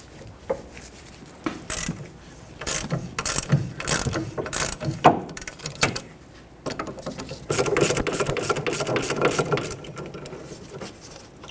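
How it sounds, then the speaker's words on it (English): A hand ratchet with a 14mm socket loosens the caliper bracket bolts on the rear brake knuckle of a 2006-2010 Hyundai Sonata, with repeated bursts of rapid pawl clicking, close and crisp, separated by short pauses, with no talking. "Use a 14mm socket and remove the 2 bolts holding the caliper bracket onto the knuckle."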